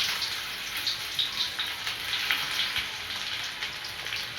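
Sliced onion fries in hot oil for a green peas curry, giving a steady, close, bright crackling sizzle with fine popping throughout and no talking.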